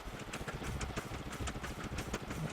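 A motorcycle built in the Scrap Mechanic building game runs with a steady, mid-pitched engine drone, pulsing evenly and continuously at close range with no voices over it.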